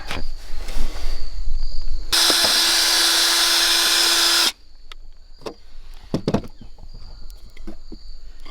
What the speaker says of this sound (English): Drilling through rubber.